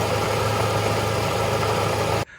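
The engine of an LPG-converted MWB Sprinter van idles under the bonnet, a steady close drone overlaid with a whirring fan clutch, running evenly until it cuts off abruptly at the end.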